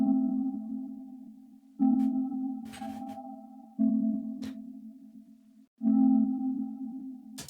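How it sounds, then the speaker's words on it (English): A small melodic loop for an organic deep house track repeats in roughly two-second cycles, with a steady low tone, a soft upper line and brief clicky transients, clean and alone with no talking. "So this is going to be this like little melodic loop."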